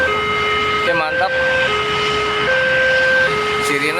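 Warning siren at railway level crossing JPL 92A in Sukomoro, sounding as a loud, steady two-tone electronic wail that alternates pitch every second or so, close by and continuous throughout.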